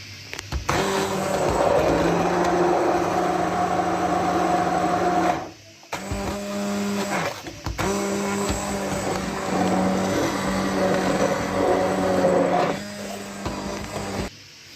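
An electric mixer whisks cake batter of eggs and sugar for an orange cake, a loud steady whir that stops briefly near the middle and then resumes, running continuously with no talk.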